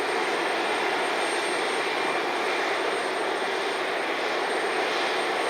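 A JetBlue Embraer E190 jet at Cleveland Hopkins airport at night gives a constant broad roar of jet engines, steady and fairly loud with no voices.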